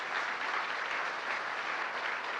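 An audience at an investment summit opening ceremony gives the Korean delegation a burst of steady, even applause, a dense wash of many hands clapping at moderate distance without talk.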